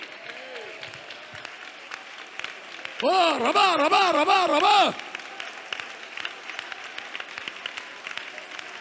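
A congregation at a Pentecostal prayer centre claps steadily throughout while a preacher chants rhythmic, sing-song syllables loudly over the clapping for a couple of seconds.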